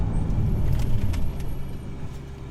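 Ferrari 458 with a Liberty Walk kit braking hard on carbon ceramic brakes, heard as a loud low rumble of the car slowing, with light metallic clinks above and no talk.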